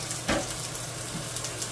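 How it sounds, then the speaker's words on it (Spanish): Onion frying in oil in a pot makes a steady close sizzle, with one brief louder crackle early on and no talking. "Aquí ya tengo la olla, mire, donde voy a freír la cebolla para la salsita"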